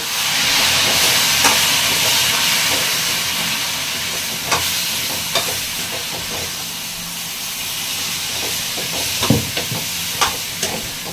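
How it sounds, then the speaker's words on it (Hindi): Water heats in a kettle with a constant steamy hiss close by, broken by a few small clicks and taps. "तो हल्का मैंने इसमें पानी गरम कर रखा है केतली में।"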